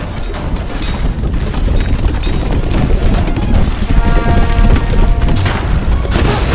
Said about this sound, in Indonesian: Meledak semua.